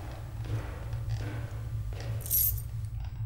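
In the video game Slender: The Arrival, a brief bright jingle of keys being picked up rises over a low steady hum and faint shuffling, then fades quickly.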